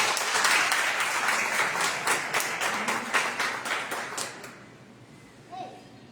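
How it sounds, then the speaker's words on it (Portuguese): A church congregation claps together in a dense, steady burst of applause for several seconds. The clapping then stops abruptly, leaving a quiet room with a faint knock or shuffle. "Você pode aplaudir o Senhor?"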